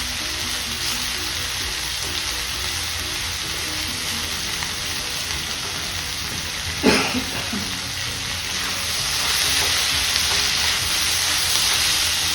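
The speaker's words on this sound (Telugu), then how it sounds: "చిక్కుడుకాయలు, ఉల్లిపాయలు మొత్తం వేగిపోయిందండి" Broad beans and onions fry in a little oil, giving a steady, close sizzle throughout, with one sharp clatter of a utensil midway and the frying growing slightly louder near the end.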